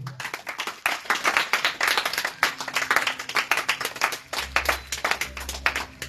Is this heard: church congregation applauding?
yes